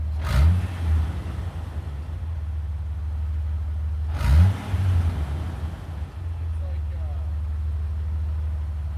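Jeep LJ with a new exhaust idling low and steady, then blipped twice in quick revs spaced a few seconds apart, close and fairly mellow, with people talking nearby.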